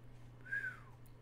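A single short whistled note gliding up then down, faint and brief against a steady low hum.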